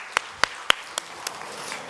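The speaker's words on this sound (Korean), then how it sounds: "여러분 큰 박수 부탁드리겠습니다." Sparse claps ring out at a book launch event as guests are introduced, about five separate sharp claps spaced roughly a quarter second apart, fairly close and alone without talk.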